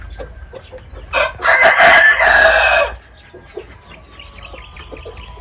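Black Australorp chickens crow and cluck close by on a Philippine poultry farm, with one loud rooster crow over a background of steady clucking and scattered bird calls.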